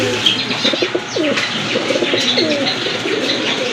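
Pigeons kept for sale coo and chirp close by in a run of soft, rounded calls, with a few brief flutters and no talking.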